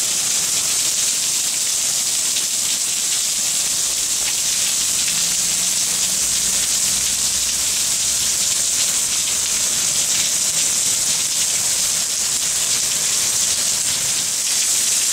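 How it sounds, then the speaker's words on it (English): Steady rain pours down at a train station on a wet summer Sunday, a continuous broadband hiss of drops on rails and surfaces, loud and close throughout with no talking. "Now check out all that rain."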